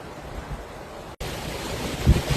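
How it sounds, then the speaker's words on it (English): Wind buffets a microphone with a steady rushing roar and low rumbling gusts, briefly cutting out midway before resuming louder. "Windy."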